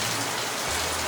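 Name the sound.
heavy rain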